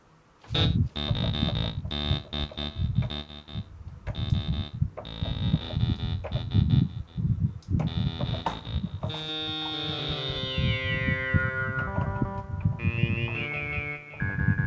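A synthesizer through a ping pong delay plays pulsing, buzzy notes with echoing repeats that trail off behind each one, layered and throbbing, growing denser with shifting tones later.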